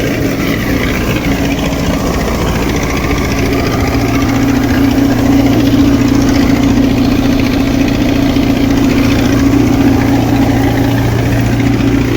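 A combine harvester engine runs steadily and loudly throughout, a constant rumbling drone with no pauses and no voices.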